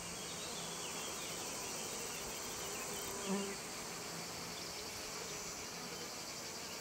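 Bees and bumblebees buzz steadily among sunflower blossoms, a dense continuous insect hum close by with no pauses and no talking.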